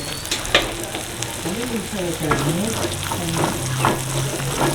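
Cashews and raisins frying in a pan for sugar pongal, a moderate crackling sizzle with light stirring clinks, while a voice murmurs faintly in the background.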